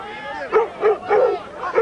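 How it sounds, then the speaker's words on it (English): Two dogs barking and snarling in a fight beside a 1990 men's college lacrosse game between Yale and UMass: four or five sharp, rhythmic barking bursts up close, with voices mixed in. "got two dogs fighting over here"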